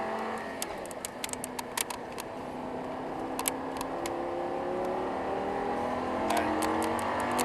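An Audi R8 engine revs and accelerates on the Paul Ricard circuit in the Assetto Corsa racing game, a continuous rising whine at steady loudness with sharp clicks overhead.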